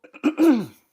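A single throat clearing, close and fairly loud, a short rough rasp lasting under a second with a couple of small catches before it.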